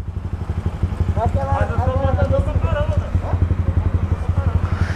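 A motorcycle engine throbs close by in a fast, even chugging pulse that swells slightly when revved, while someone talks loudly over it.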